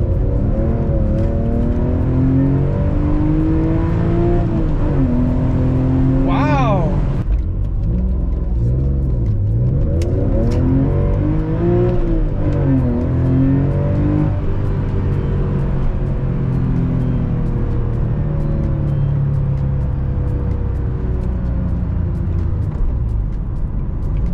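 A Porsche 996 911 flat-six with its Helmholtz resonator bypassed, revving repeatedly in rising and falling sweeps with a sharp high blip, heard close and loud with a clear induction note and no talk.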